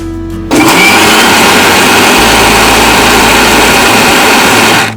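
Mixer grinder blending mango with black pepper, small pieces of ginger and mint leaves, a loud steady motor whine that kicks in abruptly after a brief lower hum and grinds on continuously.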